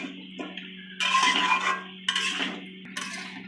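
A spoon stirs a vegetarian curry of pumpkin, potato, pointed gourd and chickpeas in a pan, producing several separate bursts of scraping and clattering against the metal, with quieter pauses between them.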